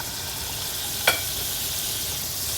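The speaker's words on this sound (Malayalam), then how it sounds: "ഞാൻ ബട്ടർ ഇട്ടു." Butter melting in a pan to start a mushroom cream sauce gives a steady, even sizzle and hiss throughout, with one brief clink of a utensil partway through.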